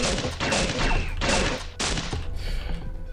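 Pistol fire in the video game Pixel Gun 3D comes as a few loud, close bursts of rapid shots separated by brief pauses.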